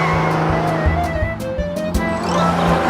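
A small motor whirs steadily alongside a mechanical rolling noise, with faint intermittent clicks and light knocks and no voices.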